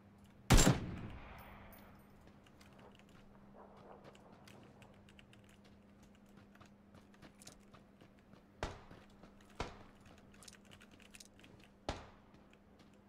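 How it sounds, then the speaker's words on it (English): A single loud gunshot cracks in PUBG early on, followed by a few sharper, fainter shots spaced out against a quiet background hum. "What are you shooting at?"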